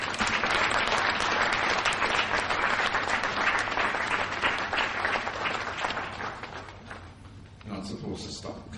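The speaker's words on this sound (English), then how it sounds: "You're not supposed to stop clapping until I leave the podium." An audience at an awards ceremony breaks into sustained, dense applause after a podium speech. The clapping stays loud for most of its length, then thins out near the end, where a voice briefly comes through.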